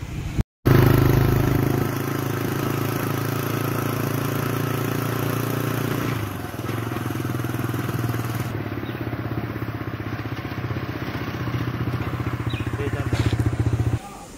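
A Hero XPulse motorcycle engine drones steadily while riding near Uttan Beach, close and loud, with a short cutout at the start and a constant rumbling hum throughout.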